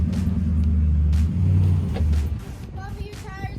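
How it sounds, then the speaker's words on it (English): A truck's engine rumbles and strains as its tires slip on a wet boat ramp while hauling a sunken boat trailer, a steady low drone that eases off partway through, with voices nearby. "Papa, your tires are slipping."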